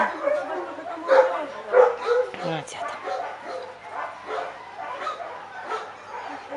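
A dog barks and yips in short bursts close by, with a few whimpering notes, while someone talks over it.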